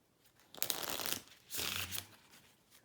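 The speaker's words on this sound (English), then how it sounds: "So we'll deal out the cards here." Linen-finish playing cards are dealt for a game of Haggis, with two short bursts of papery flicking and sliding, close and fairly quiet.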